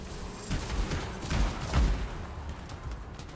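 Semi-auto rifle fire in the Anthem video game rings out as a rapid series of sharp shots over booming effects, loud and close, with a few heavier blasts in the middle.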